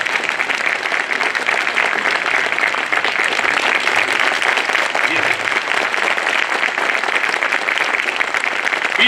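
Sustained, dense applause from an audience at a Bar Council of Delhi advocate enrolment meeting, steady and loud throughout with no break.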